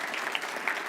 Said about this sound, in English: clap if you went further a second time